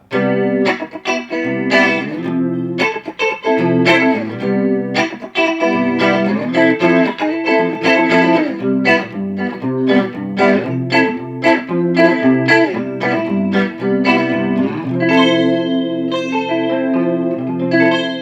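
Clean electric guitar played through an amp with effects adding chorus and echo, picked notes and chords ringing out continuously at close range with a shimmering, reverberant tail and no voices.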